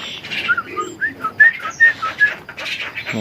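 A black klewer bird calls in a run of short, bright whistled notes and chirps, close and clear, repeating irregularly over a soft background hiss with no voices.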